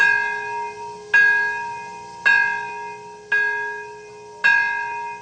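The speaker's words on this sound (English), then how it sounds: "A bell at Peace Park in Nagasaki, Japan last week marked the 66th anniversary of the U.S. atom bombing there" A large bell at Peace Park in Nagasaki, Japan, tolls four times at slow, even intervals, each deep resonant strike ringing out and decaying before the next, with no talk.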